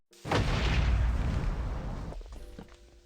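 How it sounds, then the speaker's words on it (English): A Minecraft creeper blows up in the video game, a single loud, close boom with a broad rumbling burst that fades out over a couple of seconds. "Where did that creeper come from? And another one. Kaboom!"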